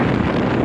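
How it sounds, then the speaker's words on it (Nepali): Wind rushes outdoors on a hillside road near Muktinath in Nepal, a steady broadband roar buffeting the microphone, loud and close with no voices. "त्यो हावा नै मिठो चल्दो रहेछ अरे।"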